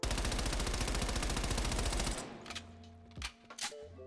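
Rapid, steady automatic gunfire from a jump-shooting player in Call of Duty sounds loud and close for about two seconds, then cuts off and leaves scattered clicks and faint game sounds.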